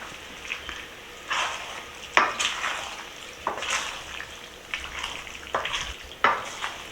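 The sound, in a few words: mixing macaroni pie ingredients in a bowl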